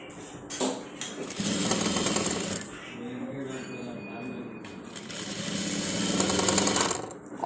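A sewing machine stitches the shoulder seam of a crop top in several long bursts of rapid mechanical whirring, close by, with short pauses between runs and a voice heard faintly at times.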